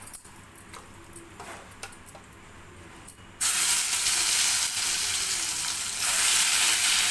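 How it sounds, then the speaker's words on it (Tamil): A new batch of chicken 65, coated in an egg and masala batter, drops into hot oil for deep-frying. A few quiet clicks come first, then a loud, dense sizzle bursts in suddenly and keeps going strongly. "ஓகே, நான் நெக்ஸ்ட் பேட்ச் போட்டுடுறேன்."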